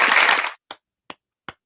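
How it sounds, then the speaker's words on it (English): A half-second burst of crowd applause cuts off abruptly, followed by three separate single claps spaced evenly apart, dry and close. "Let me just go and give you the round of applause before you can say anything."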